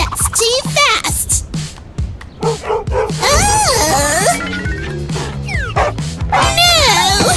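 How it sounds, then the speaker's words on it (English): A dog barks and whimpers in quick yips during a chaotic car wash, with loud music-like tones, shouting and children's voices over it. "Bad dog!"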